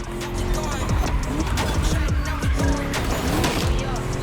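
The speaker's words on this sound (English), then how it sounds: "Just listen to that V8 like a chunky, down-tuned guitar riff." A V8 car engine in the racing game The Crew Motorfest roars and revs through repeated gear shifts, a deep throbbing growl rising and falling with each pull.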